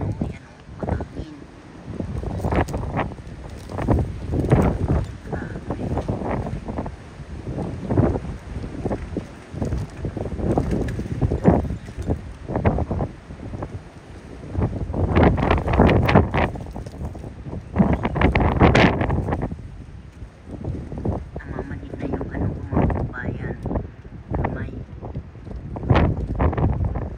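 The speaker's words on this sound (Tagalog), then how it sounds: "ano yung hangin, oh." Strong wind blows outdoors in a snowy American parking area, gusting in loud uneven surges with heavy microphone buffeting, while a person talks intermittently over it.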